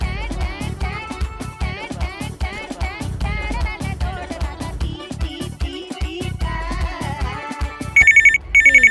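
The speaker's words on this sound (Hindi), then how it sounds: "फिर इनका फोन आ गया" A phone ringtone plays, its melodic electronic tones coming through clearly over a busy background of music and voices, growing louder at the end.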